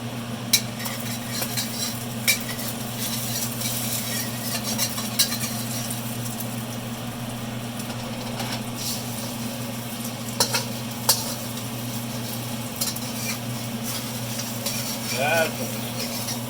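Turmeric chicken sizzles steadily in a hot pan, with occasional sharp clinks of a utensil against the pan as the pieces are turned; a constant low hum runs underneath throughout.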